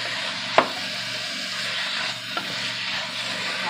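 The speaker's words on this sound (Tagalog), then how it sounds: "ma-mix sa ating garlic at saka onion. Halo-halo lang ng kunti." Garlic and onion sizzle steadily in a hot pan while being stirred, a dense frying hiss broken by two sharp utensil knocks against the pan.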